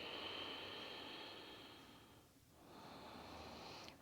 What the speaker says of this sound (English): Having that nice swirl ocean sound through the chest and the throat.